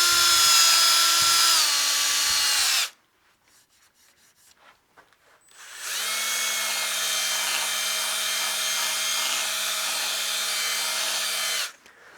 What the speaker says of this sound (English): you can lock your spindle and then spot sand